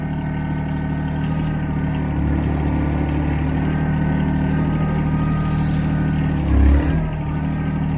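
A Rhino XN12 mini excavator runs with a steady, loud engine drone and hydraulic whine, holding constant throughout with a brief deeper surge near the end as the arm and bucket move.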